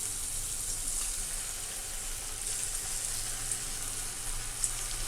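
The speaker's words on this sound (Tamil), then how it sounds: "இப்போ நம்ம மிக்ஸ் பண்ணி வச்ச பொட்டேட்டோ ஒன்று ஒன்று ஆயிலில் சேர்த்துக்கலாம்." Potato pieces for spicy potato 65 dropped into hot oil and deep frying, a steady, close hiss of sizzling with occasional small pops throughout.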